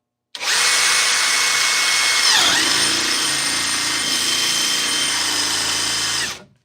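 A power drill bores through wood with a one-inch Bosch paddle bit, running loud and steady for about six seconds; the pitch sags briefly as the bit bites and loads up midway, then the whine recovers to the end.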